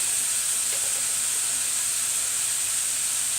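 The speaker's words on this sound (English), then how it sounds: "right in with the burger as he's frying it" Steady hissing sizzle of burger meat frying in a hot pan, continuous and fairly close, with no talking.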